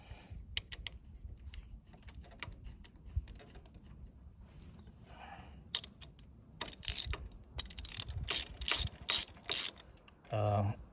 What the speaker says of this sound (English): now I just need to screw it back on